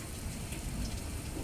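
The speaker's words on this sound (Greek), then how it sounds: "Ακούτε και τη βροχή" Steady rain pours down during a night thunderstorm in a Romanian village, a dense, even hiss of falling water that stays constant throughout with no distinct thunder claps or voices.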